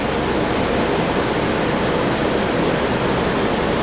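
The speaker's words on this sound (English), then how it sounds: "it's time to put the drain pan under this thing and start draining her out" Steady rushing, hissing flow of fluid draining out of a 2006 Dodge Stratus 2.4 engine into a drain pan, a continuous broadband pour that stays loud and even throughout with no talking.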